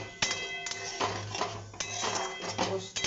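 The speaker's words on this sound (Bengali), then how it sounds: "সব মশলা দিয়ে একদম কষাচ্ছি।" Spices are stir-fried in a pan for a Bengali paneer dish, heard as faint repeated scraping and metallic clinks of a spoon against the pan over a low sizzle.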